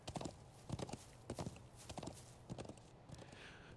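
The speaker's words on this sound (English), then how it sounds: "It's been a while, so I think I'll treat my horse to a longer ride." Horse hooves clip-clop at a steady walking rhythm during a ride in the video game The Legend of Heroes: Trails of Cold Steel IV, faint and evenly paced, with soft background ambience.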